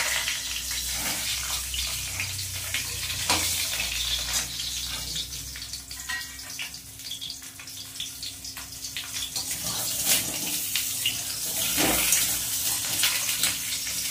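Stuffed pointed gourd (potol) fries lightly in hot oil, a close, crackling sizzle with sharp spits and pops that swells and fades unevenly throughout.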